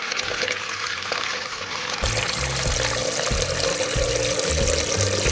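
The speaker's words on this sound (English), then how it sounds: "First of all, I have taken 1 liter of water," About one liter of water pours into a cooking pot for fettuccine Alfredo, a continuous loud splashing rush that deepens and grows fuller partway through as the pot fills.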